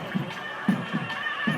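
A horse at a Tamil temple procession at Nallur gives short repeated whinny-like bursts over a crowd murmur, four brief calls spaced irregularly within under two seconds.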